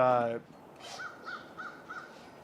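A short burst of speech gives way to a few crow caws, about four, repeated at a steady pace and sounding somewhat distant.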